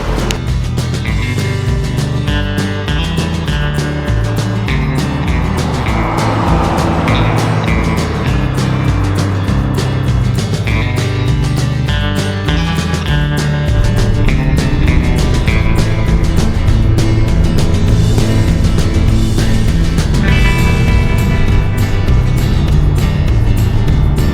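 A 1994 Corvette ZR1 405-horsepower sports car with a six-speed manual drones loudly and continuously, its engine revving up and down as it drives, heard from close by.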